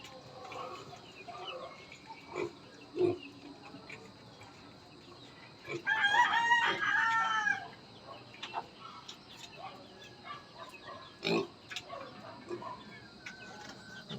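Roosters kept on a backyard farm alongside piglets crow in a loud burst in the middle, with scattered clucks and other fowl calls around it and faint talk nearby.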